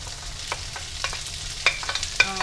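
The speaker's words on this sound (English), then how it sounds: "I'm gonna start adding my chili and the corn." Chili and corn stir-fried in a pan with garlic and ginger over medium-low heat, a steady soft sizzle broken by sharp scraping and tossing strokes, louder toward the end.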